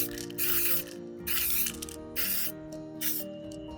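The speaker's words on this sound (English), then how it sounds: "I'm going to spray paint it in orange." Four bursts of orange spray paint hiss from an aerosol can onto a phone cover, each about half a second long, separated by short pauses, close by over a faint steady hum.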